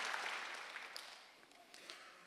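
Church congregation applauding during a Wednesday worship service, a soft, steady patter of many hands clapping at a distance, fairly faint, with no voices over it.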